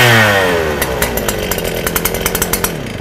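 Stihl FS 250 brush cutter with a 40 mm shaft, its two-stroke engine fitted with a chainsaw-type carburetor, revs up quickly from a low idle into a loud, sustained high-pitched whine with rapid pulsing, heard alone up close.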